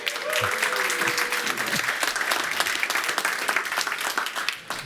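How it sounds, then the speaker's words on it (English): Audience applause at the opening of the TransformBase 24 conference, a dense, steady clapping from a large crowd that holds for about five seconds before thinning out at the end. "Give us a round of applause for that."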